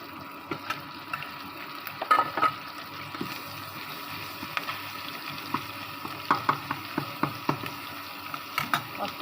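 Spices going into food frying in oil give a quiet, steady sizzle, with scattered clinks and scrapes of stirring throughout.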